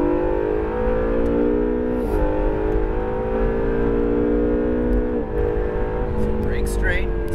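An Acura NSX engine drones loudly and steadily on a race track, its pitch shifting gradually as the car works through corners, with an instructor's voice talking over the engine.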